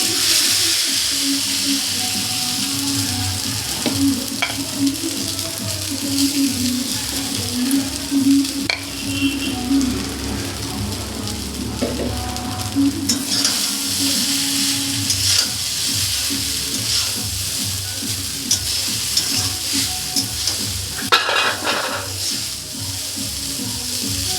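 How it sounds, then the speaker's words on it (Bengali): Chow mein noodles fry in white oil in a pan, a continuous loud sizzle with stirring and scraping, steady throughout with occasional clatter. "একটা চাউমিন রেসিপির জন্য আমি চাউমিনটা ভেজে নেব তার জন্য দিয়ে দিচ্ছি সাদা তেল"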